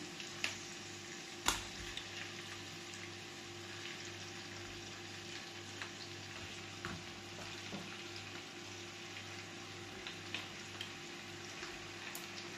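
Chicken frying in a pan with coconut milk and peanut butter, a faint, steady sizzle with occasional small pops and clicks in a quiet kitchen.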